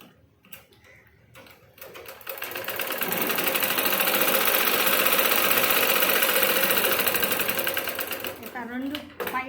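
A sewing machine stitches blouse fabric laid over a thicker backing cloth, running in one continuous, loud mechanical whir for several seconds, with someone talking briefly before and after the run.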